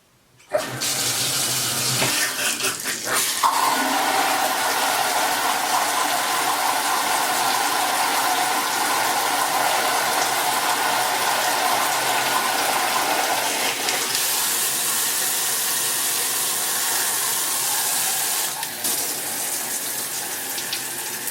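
Water sprays steadily from a newly installed Vida Alegria Simplicity showerhead during a leak test, a loud, constant hiss of running water lasting the whole stretch with slight shifts in tone.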